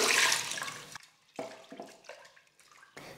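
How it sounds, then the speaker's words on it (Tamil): Lentils (dal) for sambar being washed in water inside a pressure cooker: a loud initial pour or slosh, then intermittent splashing and swishing bursts with short pauses, close up and without speech. "தண்ணியை சேர்த்துட்டு பருப்பை நல்லா ஒரு 3-4 முறை தண்ணியில் நல்லா கழுவி எடுத்துக்கலாம்"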